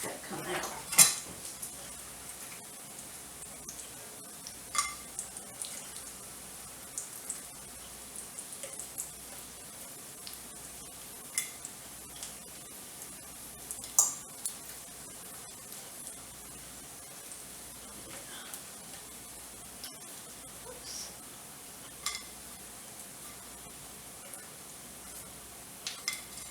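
Scattered clinks and scrapes of pans and metal utensils while bacon cooks for a smoky corn chowder in a home kitchen, light taps spread across a steady low background, no talking.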